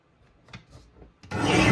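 A paper trimmer slices a sheet for a scrapbook page kit: a few faint ticks and shuffles as the paper is positioned, then one loud, close rasping cut through the paper.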